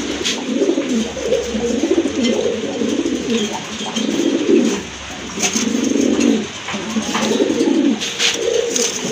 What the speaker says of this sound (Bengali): দেখেন আরেকটা কবুতর, নর কবুতর